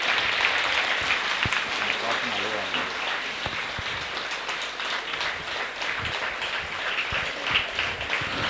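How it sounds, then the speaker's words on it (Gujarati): An audience applauding at a scholarship event, a dense steady wash of clapping that continues throughout, with a voice faintly audible beneath it. "જોરદાર તાળીઓ"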